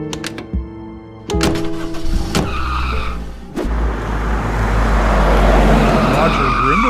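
A car in a Roblox game drives and skids, with engine noise rising into loud tire squeal and scraping. Several thunks come first, and a steady roar builds toward the end while voices are heard faintly.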